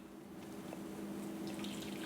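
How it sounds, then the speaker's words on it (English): Brewed dark espresso coffee pours into a mug from a brewer held shut with a finger, a steady liquid trickle and splash running continuously at moderate level with no talking. "we're going to pour our brewed coffee into the mug"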